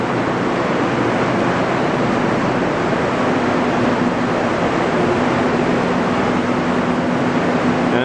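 Water rushes steadily through a wastewater treatment plant's solids removal system, a loud, dense, unbroken roar with a faint steady hum underneath and no pauses.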